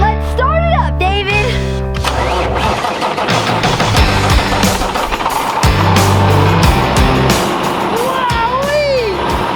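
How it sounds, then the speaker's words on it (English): A 430 horsepower Cummins dump truck engine cranks and rumbles to life up close, with a deep steady idle, a few whistling and revving swells, and people talking over it throughout. "This is a 430 horsepower Cummins engine, baby."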